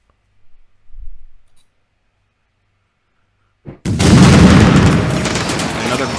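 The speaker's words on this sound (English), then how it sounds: "We've got those machine guns ready in the trenches." In a WW1 East Prussia campaign video game battle, trench machine guns and explosions erupt suddenly after near-silence and a faint low thud, becoming a loud, dense, sustained barrage of gunfire and blasts.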